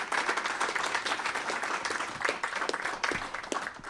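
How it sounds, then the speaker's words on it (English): Another round of applause from an audience at a letter-of-intent signing day, many hands clapping in a dense, even patter at moderate distance without talk. "Let's have another round of applause."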